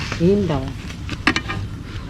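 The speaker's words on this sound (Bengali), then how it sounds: "দিনাজপুরের পাপড় ভাজা হচ্ছে" Dinajpur papad fries with a steady, close sizzle and a few sharp crackles, with a voice speaking over it at the start.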